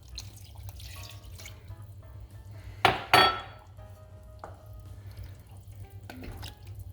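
Two cups of water are poured into a pot of chicken, shrimp and sausage gumbo: a short, loud splashing pour lasting under a second, set against quiet kitchen hum and faint clinks.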